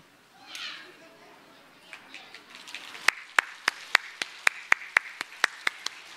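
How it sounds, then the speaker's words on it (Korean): Hands clapping in church after a child lights an Advent candle on the third Sunday of Advent. Muffled children's chatter comes first, then about a dozen sharp, evenly spaced claps land in a steady unison rhythm. "점화를 할 때 여러분 박수를 크게 쳐주시기 바랍니다"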